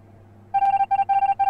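A rapid series of electronic video game beeps from a bomb being planted, steady and evenly pitched, pulsing in short bursts after a moment of quiet.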